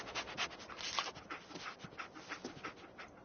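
Dogmeat, the dog companion in Fallout 4, pants in quick rhythmic breaths, faint and close, with soft whimpering mixed in and no talk.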